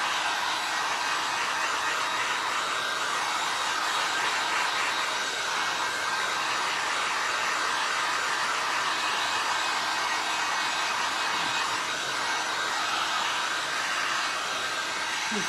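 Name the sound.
hair dryer drying resin on a glass flower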